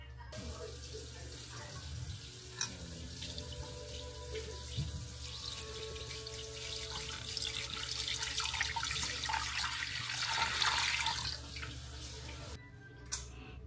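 Tap water running and pouring into a pot filled to about three inches, a steady close splashing flow with small clinks partway through, before it cuts off near the end.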